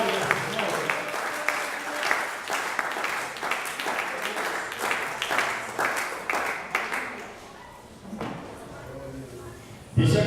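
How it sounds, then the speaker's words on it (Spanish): A church congregation claps together during a Sunday service at an IPUC church, a dense, steady burst of applause that fades after several seconds, with a voice speaking toward the end. "un aplauso al Señor que nos liberó del pecado."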